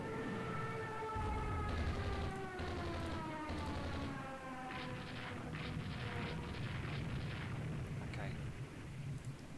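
Torpedo and bomb hits exploding on warships in a naval strategy game, heard as long rumbling booms beneath a wailing siren-like drone, with bursts of impact noise throughout.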